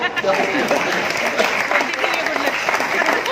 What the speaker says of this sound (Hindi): तालियां कम बजाई ब्रह्म प्रकाश जी के लिए